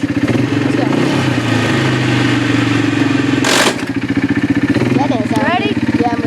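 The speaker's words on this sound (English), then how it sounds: "we're just getting ready to go ride the four-wheeler" A four-wheeler ATV engine runs steadily nearby with a loud, rough rumble, briefly masked by a burst of noise partway through, while people talk over it.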